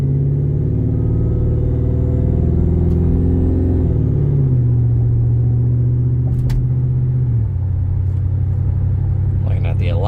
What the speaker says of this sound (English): This truck sounds phenomenal.